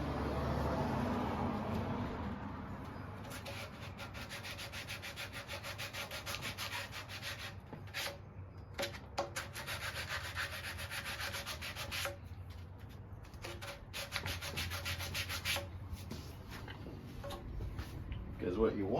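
Wood is sanded by hand for custom bookshelves, with long repeated rubbing strokes and brief pauses between passes, close up, while a voice talks at times.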